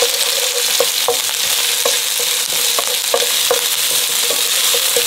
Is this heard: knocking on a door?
no